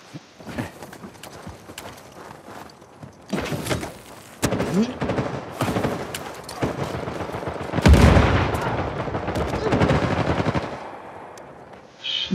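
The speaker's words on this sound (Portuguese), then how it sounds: "Deixa eu ver de onde é que estão vindo os tiros." Automatic weapon fire crackles in bursts during a team deathmatch on the Scotland map of Uncharted 4, with loud, close volleys and repeated staccato shots continuing throughout, some bursts heavier than others.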